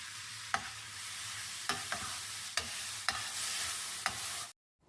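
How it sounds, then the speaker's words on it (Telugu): Grated carrot frying in ghee gives a soft, steady sizzle broken by several sharp scrapes of a spoon stirring the pan, quiet and close, with no voices, ending abruptly. "క్యారెట్ని ఒక వన్ టు టూ మినిట్స్ ఇలా నెయ్యిలో ఫ్రై చేసుకున్న తర్వాత"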